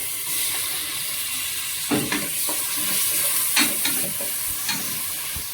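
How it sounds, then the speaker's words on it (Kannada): Onion and tomato fry in a pan with a loud, continuous sizzle, broken by several sharp spatula stirs and scrapes, heard alone without talk. "ಸೊ ಇವಾಗ ಟೊಮೆಟೊ ಹಾಕ್ತಾ ಇದ್ದೀನಿ"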